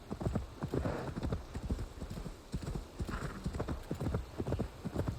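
Horse hooves clip-clop steadily in the Assassin's Creed Valhalla video game, a close, rhythmic trot of repeated hoof strikes running throughout with a faint whinny and some soft background sound.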